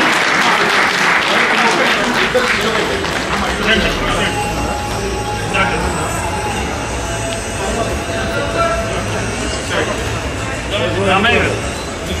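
An audience at a film pre-release event on stage claps loudly to welcome a Padma Shri awardee, a dense sustained roar of applause with voices mixed in, holding steady for the full stretch.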